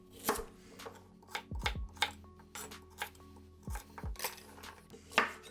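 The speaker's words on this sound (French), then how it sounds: "Les carottes, des tronçons assez épais quand même." A knife chopping carrots into thick chunks on a cutting board: a run of close, sharp knocks at an uneven pace, some in quick pairs, in an otherwise quiet kitchen.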